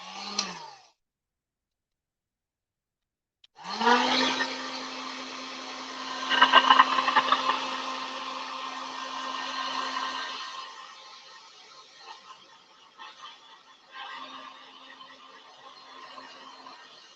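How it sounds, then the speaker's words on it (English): A heat tool blows steadily over freshly painted laser-cut Halloween witch hat pieces, a loud continuous whirring hum that starts after a short blip and silence, then fades and sputters toward the end. "I'm going to actually take my heat tool just to dry it"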